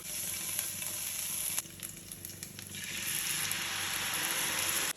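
Garlic and ginger frying in hot olive oil, a dense, steady crackling sizzle that swells after a few clicks and stirring scrapes midway, loud and close throughout.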